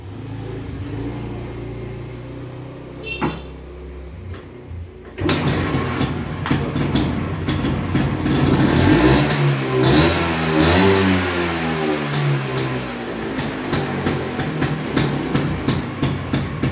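A restored 1970 Vespa Granturismo scooter with an aftermarket exhaust starts up, then runs at a steady rough idle and revs in pulses, loud and close, for about eleven seconds.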